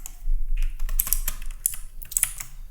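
Code being typed on a computer keyboard for a forex trading bot, a close, steady patter of quick key clicks with short bursts and brief pauses.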